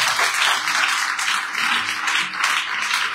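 Sustained applause from an audience gathered in a church, dense clapping that swells and dips slightly over a few seconds, filling the room with no talking.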